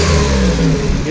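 A VW Gol with a CHT engine revs loudly up close, then drops back and settles toward a steady idle, the engine note continuous throughout.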